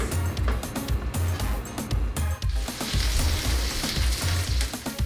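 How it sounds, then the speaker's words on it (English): Seasoned curry chicken sizzling and frying in a pot on medium heat, a steady dense crackle that continues throughout with low clattering stir noises. "we're going to put it on medium heat, and we're going to make this cook through for about 2 minutes"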